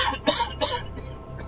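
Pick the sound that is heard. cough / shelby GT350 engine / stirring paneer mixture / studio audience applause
cough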